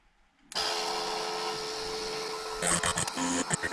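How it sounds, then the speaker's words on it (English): A small high-speed drill with a 1mm bit whines steadily as it bores into the frame of a 1/18-scale FMS Atlas 6x6 crawler, starting abruptly, then turning choppy and stuttering near the end, close and loud. "I'm drilling new holes into the frame and not drilling the steel screw"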